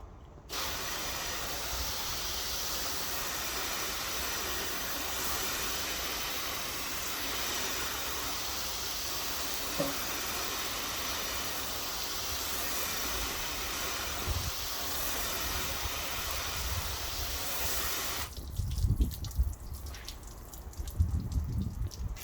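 Water sprays steadily onto car glass to rinse off ceramic glass cleaner, a loud continuous hiss lasting most of the time before cutting off, followed by dripping and splashing.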